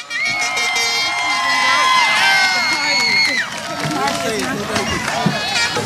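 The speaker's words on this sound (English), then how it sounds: "Another round of applause for class of 2022." A large commencement crowd roars for a graduating high school class, with loud sustained cheering, shrieks and whoops, and clapping underneath that fades slightly toward the end.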